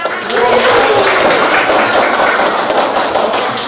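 A group of education students in an Indonesian teacher-training class claps hands together during a class chant, a dense, loud patter of many overlapping claps sustained for a few seconds.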